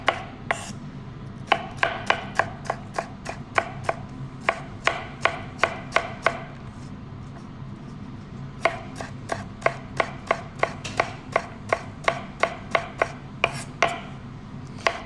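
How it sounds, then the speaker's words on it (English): Knife cutting green peppers into thin slices on a cutting board, crisp regular chops in quick rhythmic runs with a pause in the middle, close and clear, no talk. "I'm gonna take the knife like this, and Britt's gonna come down real close over here, Britt, and get it real close. As I'm just cutting down straight like this over here."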